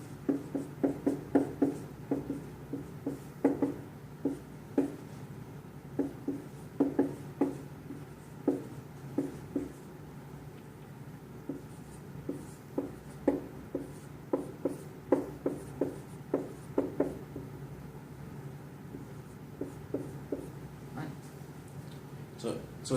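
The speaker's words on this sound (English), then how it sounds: "So let's write in our numbers here." Pen scratching out numbers for a thermal expansion physics problem, a steady run of small dry strokes and taps close up, with no one talking.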